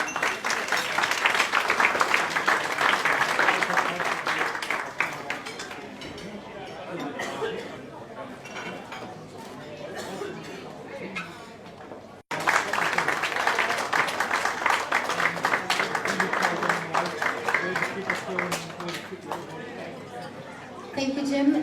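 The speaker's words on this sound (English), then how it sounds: "Can we have a big round of applause" Guests at an evening networking event applaud a presenter, with crisp clapping in two lively bursts separated by a quieter stretch. Room chatter, voices and the faint clink of dishes and cutlery carry underneath.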